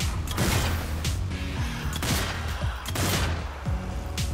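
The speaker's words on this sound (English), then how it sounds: "I'm under fire." Repeated bursts of gunfire in the zombie shooter video game Zombie Army 4: Dead War, with rhythmic rifle shots and booming impacts recurring every second or so, loud and close with no talk over them.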